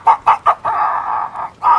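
A voice imitates chicken clucking, with three quick close clucks followed by a drawn-out squawk and another loud cluck, all near and fairly loud.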